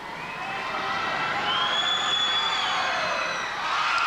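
A basketball crowd at a 1983 NBL game between Nunawading and Coburg roars steadily through a tense late moment, a sustained loud wash of cheering and whistling with no speech above it.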